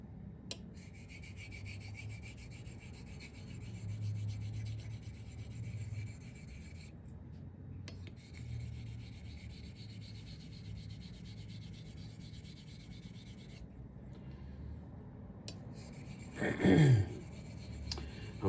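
A Filarmonica 14 straight razor being honed on a Les Petas coticule stone, setting the bevel, gives a steady soft rubbing rasp in continuous strokes with brief pauses, close and quiet, ending in a short louder scrape.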